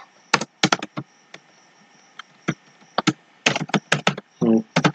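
Quick, uneven bursts of clicky keystrokes on a computer keyboard sound close and crisp, with brief pauses between clusters of taps and a quiet background.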